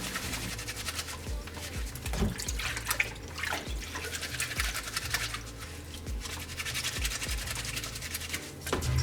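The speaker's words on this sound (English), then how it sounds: "Whenever you're scrubbing your mask and you're washing it, just rub it together like this." A cloth face mask scrubbed hard by hand in hot water, with repeated wet rubbing and sloshing strokes in an uneven rhythm, close and fairly loud, without talk.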